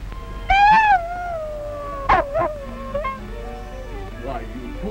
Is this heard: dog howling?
yes